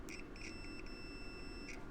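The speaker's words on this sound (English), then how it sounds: "Got the beep." A few short high-pitched multimeter continuity-test beeps on hot tub heater parts, one sustained tone across most of the moment, over a steady low background hum.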